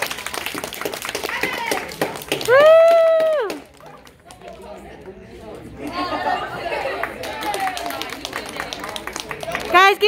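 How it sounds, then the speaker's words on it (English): An audience claps and cheers after an orchestra drama improv, with bursts of applause and crowd chatter mixed with voices and a loud whistle-like tone partway through. "give them a big round of applause, please"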